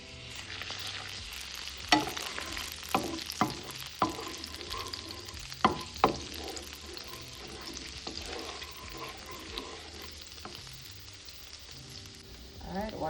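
Garlic sizzles in melted butter in a pan, a steady close frying crackle with occasional sharper pops and stirring clicks throughout, no talk.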